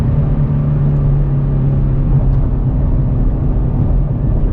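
A Coyote Mustang GT launches at a drag strip, its engine a loud, steady, droning rumble heard close from inside the car.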